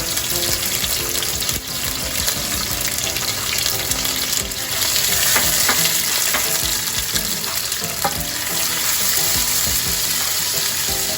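Onion, tomato and garlic fry in a pan for a Jamaican mackerel rundown, giving a loud, dense, continuous sizzle with occasional stirring clatter; nobody speaks.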